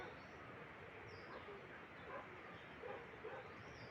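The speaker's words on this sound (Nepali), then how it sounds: "किन कुकुर कराइरहेछ?" A dog barks near a house in Nepal, a few short barks over constant noisy background hiss, moderately close.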